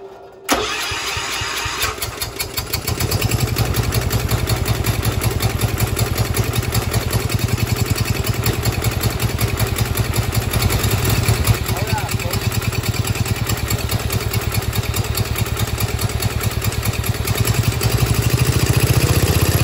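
An engine cranks and catches, then settles into a steady, loud idle with an even rapid mechanical pulse that runs close and unbroken throughout, with speech somewhere in the mix.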